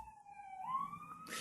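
An emergency vehicle siren passes outside during a podcast recording: a single wailing tone rises and swells, fairly loud and steady, then a burst of broad noise cuts in near the end.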